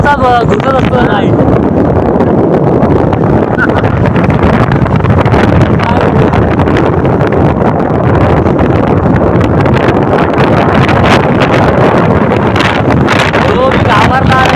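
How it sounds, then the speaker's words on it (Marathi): A strong cool wind on a village road blows hard and continuously across the microphone in a loud, steady roar with rough gusty buffeting throughout. "बघतो हा काय गारदार वारा लागतोय"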